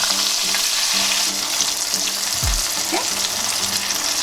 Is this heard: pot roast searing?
yes